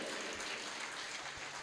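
An audience at a Hindi spiritual discourse applauds, giving a dense, continuous wash of clapping that stays fairly steady throughout, with no speech over it.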